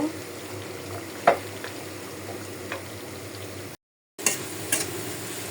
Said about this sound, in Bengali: মাংসটা কষানো হয়ে গেছে, ডালটা আর একটু কষায়